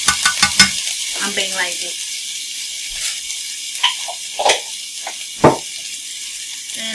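Minced garlic, a teaspoon of it, sizzles in a hot pan with a steady hiss, broken by a few stirring scrapes and clinks, while a person talks briefly at the start.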